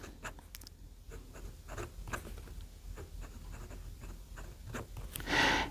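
Natami fountain pen with a fine nib writing on paper, a series of short scratchy strokes with small pauses between them, close and quiet, ending in a slightly louder rustle.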